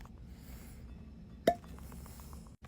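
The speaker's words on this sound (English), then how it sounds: "This is an excellent cork pop." A cork pops from a cigar-shaped liquor bottle with one short, sharp burst, loud and close, standing out against a quiet room hum.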